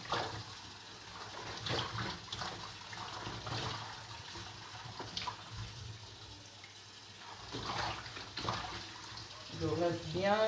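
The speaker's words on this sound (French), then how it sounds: "Je rince bien, je m'assure que je vais bien laver" Vegetable leaves rinsed under running water, a continuous splashing gush with swirling and sloshing as the leaves are turned over, while a voice talks over it.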